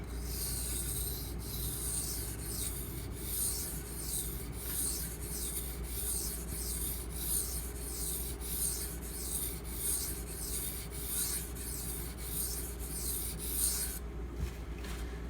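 A knife blade is drawn across a Pride Abrasives water stone in a steady series of about a dozen rhythmic, gritty rubbing strokes, close up and continuous with no voices.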